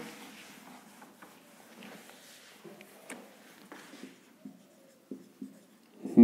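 Handwriting a line of notes during a physics lecture: a steady scratch of pen on paper with small taps and pauses between words, close and quiet, with no talking.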